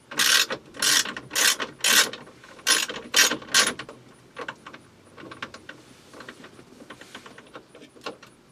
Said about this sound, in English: And you got to take those two screws loose